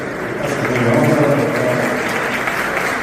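Sustained audience applause at a Paraguayan duo music festival, a dense, even wash of many hands clapping from a sizable crowd, steady and fairly loud throughout with no break.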